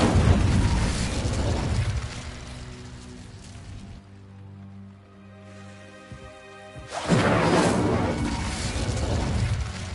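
An Incendio fire spell in a Hogwarts wizard game erupts as a loud, roaring burst that fades to a low hum, then a second fiery whoosh flares up strongly and lingers.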